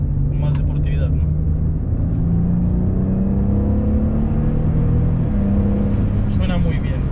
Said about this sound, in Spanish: Suena muy bien. Y es alucinante cuando vas detrás de este coche cómo suena.